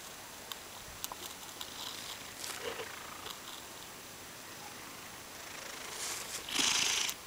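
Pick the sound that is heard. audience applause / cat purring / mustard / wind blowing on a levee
cat purring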